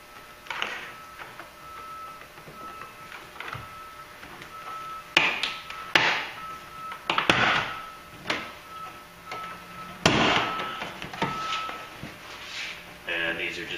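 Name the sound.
prying out push fasteners on a GMC Yukon liftgate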